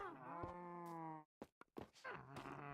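A cow in a Minecraft-style multiplayer server moos in long, drawn-out tones, fairly close, with a short break of clicks and shuffling before another sustained moo.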